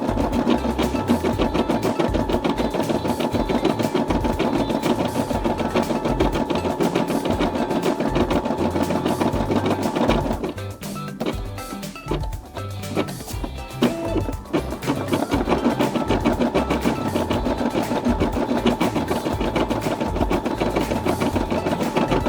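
A Brother SE600 embroidery machine stitching a custom elephant design, its needle chattering in a fast steady rhythm close by, briefly thinning into a sparser, lighter patter before resuming at full pace.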